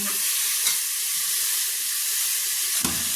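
Whole spices roasting in a hot pan for a goat head curry, a loud continuous sizzling hiss close by with faint stirring and a brief clink near the end.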